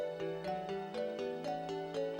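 A synthesized phone ring from the RPG Maker 1 game repeats in a fast, regular electronic pulse, about four rings per second, loud and uninterrupted with no talk.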